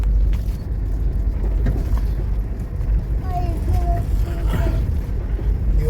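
A car bounces and rumbles over a rough national road in Samar, a loud, steady low roar with creaks and knocks from the vehicle and children's voices in the background.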